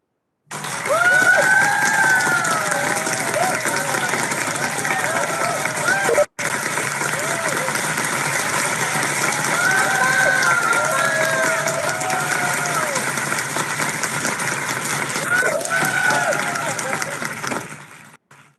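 Applause and cheering for a stylish dance performance at a virtual cultural festival, a continuous wash of clapping with crowd noise lasting most of the stretch, briefly cut once, with voices mixed in.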